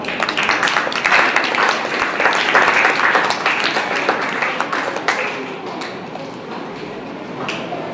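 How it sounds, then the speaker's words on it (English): A school Independence Day function audience gives a speaker a loud, sustained round of clapping that gradually thins out toward the end. "welcome him with a huge round of applause"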